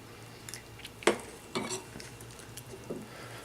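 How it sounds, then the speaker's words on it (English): A spoon scoops quinoa corn chowder from the bottom of a pot, giving a few soft scrapes and clinks against the metal, with one sharper knock and some quiet stirring sounds. "Now I'm going to scoop from the bottom."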